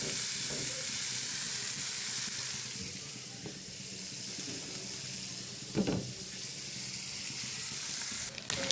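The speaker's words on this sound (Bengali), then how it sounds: "চিংড়ি পেঁয়াজ একসাথে ভেজে নেব ভালো করে" Prawns and onion frying together in a pan, producing a soft, steady sizzle with occasional stirring scrapes and a brief louder clatter near the end.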